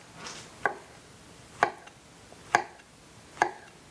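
A kitchen knife chops zucchini into big pieces on a cutting board, four crisp, evenly spaced thunks about a second apart, close and clear in an otherwise quiet room.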